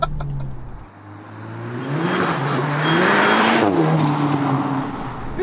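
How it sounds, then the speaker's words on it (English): A stage 2 tuned Seat Leon Cupra hot hatch accelerating hard in second gear, its engine note rising loud and close in a steady climbing roar with a brief dip as the throttle goes down. "second gear, put my foot down."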